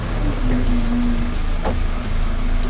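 A JCB 5CX backhoe loader rolls along slowly, its diesel engine giving a steady low drone with a faint whining tone, continuous and fairly close.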